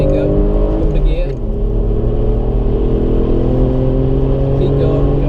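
An Alfa Romeo Brera accelerates on the Anglesey circuit, its engine droning loud and steady with a gear change early on, heard from inside the car as an instructor talks over it.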